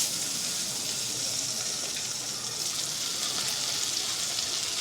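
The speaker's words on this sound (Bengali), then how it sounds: "এর মধ্যে এবার পনিরগুলো ভেজে নেব।" Steady, even sizzling hiss of paneer frying in butter in a pan, continuous and moderately quiet with no talking.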